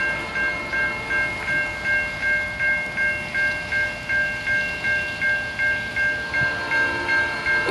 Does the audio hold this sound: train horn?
yes